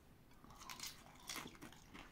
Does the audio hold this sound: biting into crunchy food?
yes